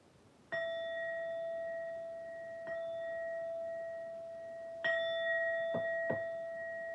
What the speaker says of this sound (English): We gotta strike the bell for him.